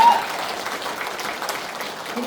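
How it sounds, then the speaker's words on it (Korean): Applause from an audience at a Democratic Party members' education lecture in Cheongju fills the room steadily and at moderate level, with a faint voice under it. "네, 큰 박수 해주십시오."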